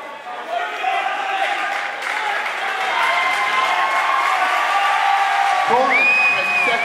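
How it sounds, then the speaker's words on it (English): A boxing arena crowd cheers and applauds before the tenth and final round, a steady swell of clapping and shouts that builds slightly, with a commentator's voice audible near the end. "leading the cheering as they come out for the final session"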